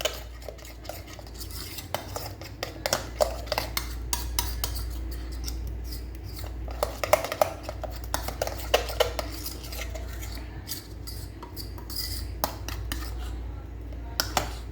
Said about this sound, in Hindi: अब सारे मिक्सर को हम ऐसे ब्लेंड कर लेंगे।